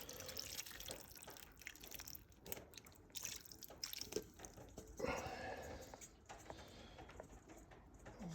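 Liquid pours and trickles over pork chops in a crockpot, a soft continuous splashing and dripping that stays faint and close throughout, with no talk.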